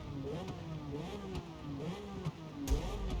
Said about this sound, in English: I'm not sure how I feel about the pops though, the exhaust